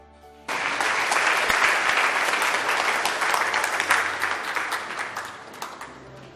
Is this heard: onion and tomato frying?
no